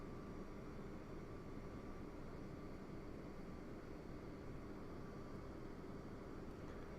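Steady, loud drone of an airplane engine in Microsoft Flight Simulator X during an autoland approach, an unbroken broadband roar with no pauses and no talking.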